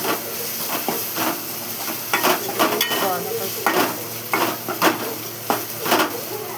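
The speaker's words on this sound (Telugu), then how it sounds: "కొంచెం పసుపు వేసుకొని కలపాలి. బాగా మిక్సింగ్ చేసుకోవాలి." Onions with turmeric and ginger are stirred in a pan over heat, with a soft sizzle under repeated scraping and clinks of a spoon against the metal, fairly close.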